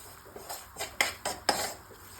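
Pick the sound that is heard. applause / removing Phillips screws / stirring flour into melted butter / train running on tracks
stirring flour into melted butter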